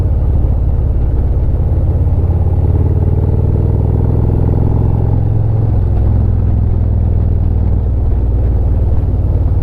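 A Harley motorcycle engine droning steadily through higher-speed turns on a road, loud and close with heavy rumble and wind, the pitch dipping and shifting as the rider eases off and downshifts.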